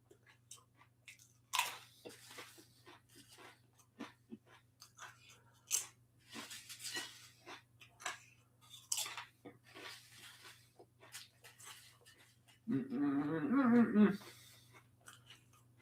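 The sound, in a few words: crunching and chewing Doritos chips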